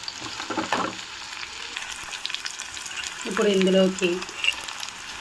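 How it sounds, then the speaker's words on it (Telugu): Chopped onions sizzle steadily in hot oil in a pan for roadside-style salna gravy, a continuous bright frying hiss with occasional stirring scrapes, while someone speaks briefly over it. "పచ్చివాసన పోయేంత వరకు దూరగా ఫ్రై చేద్దాము."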